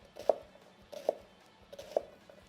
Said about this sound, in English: now when I make my cuts this way